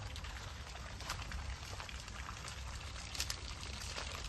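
Water runs out of a drip irrigation pipe on a farm plot near the Kaveri river, giving a steady splashing, trickling wash that stays close and continuous with no talking.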